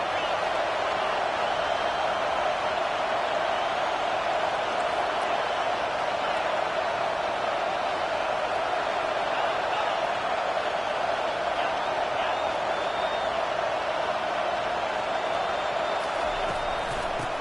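Stadium crowd in a football video game, a constant, even roar that holds steady throughout while a commentator talks over it.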